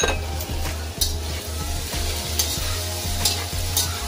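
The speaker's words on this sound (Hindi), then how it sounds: "अब इसको मैं तेल में थोड़ा फ्राई करूँगी" Peas and cauliflower sizzle steadily in hot oil for a mixed vegetable pulao, while a spoon stirs and scrapes against the pan in a regular rhythm of sharp clacks; close and loud, no talking.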